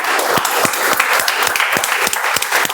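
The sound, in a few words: audience applause for the volunteers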